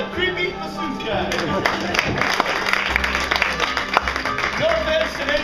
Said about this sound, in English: Round of applause for the creepy masseuse guy.